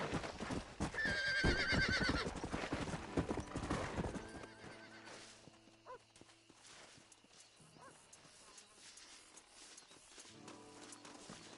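A horse in the Red Dead video game gallops with rapid hoofbeats and gives a loud neigh early on, then the hooves fade to a quieter, slower clatter under ambient game sound.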